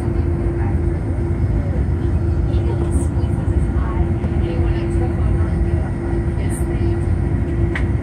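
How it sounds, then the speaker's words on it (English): A United Airlines Boeing 787-9 takes off from Washington Dulles bound for Paris, heard from the front row of the Polaris Business Class cabin as a steady, muffled engine roar and rumble, with faint voices of passengers under it. "United Airlines 7879, taking off from Washington Dulles to Paris, Charles de Gaulle"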